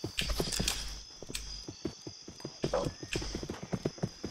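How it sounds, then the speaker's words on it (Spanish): Horses clip-clopping in the Roblox western game Westbound, a steady run of hoof clops with an occasional whinny over a faint game background. "Mira cómo están los caballos."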